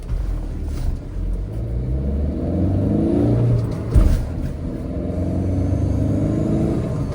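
A Tata Nexon pulls away from a standstill in eco mode, its engine a steady low rumble that swells gradually as the car gathers speed, with a brief thump partway through and no talking.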